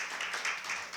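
An audience at a research festival session applauds to welcome the invited speakers, a brief, steady wash of soft clapping heard from a distance and fairly quiet.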